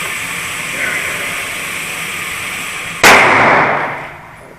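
A Smith and Wesson Model 28-2 Highway Patrolman revolver fires a single sharp, loud shot at an indoor range, its blast ringing and decaying over a steady background hum of range noise.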